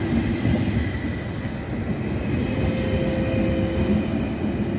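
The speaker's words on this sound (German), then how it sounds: "Gleis 11, Einfahrt ICE 375 nach Basel SBB über Frankfurt am Main Hauptbahnhof in den Abschnitten A bis F" An ICE train pulls into a platform at Göttingen station, a loud rumbling roll of wheels and carriages with a faint squealing tone toward the end, steady and close throughout.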